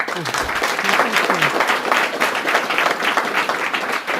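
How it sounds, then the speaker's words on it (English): Audience applause for speaker Steven May at the close of a London history talk, a dense steady clatter of many hands that runs throughout, with a brief voice heard near the start. "a round of applause for Steve"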